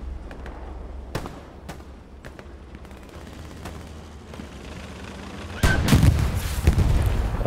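Distant battlefield gunfire in Hell Let Loose, a World War II shooter with tanks nearby: scattered sharp rifle cracks and booms over a low rumble, then a louder burst of close impacts and rumbling near the end.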